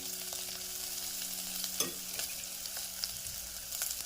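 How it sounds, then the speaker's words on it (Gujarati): Vegetables sizzle steadily in a pan while being sautéed for a potato dry curry, a continuous frying hiss with occasional soft stirring scrapes, close and unbroken by talk. "તેને પણ આપણે સારી રીતે સાંતળી લઈશું।"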